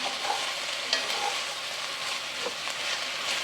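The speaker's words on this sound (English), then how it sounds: "cook this for about 2 to 3 minutes until the vegetables are softened" Vegetables sauté in the pan for a Korean beef tofu stew, a continuous close sizzle and crackle with small pops and stirring scrapes throughout, no voices.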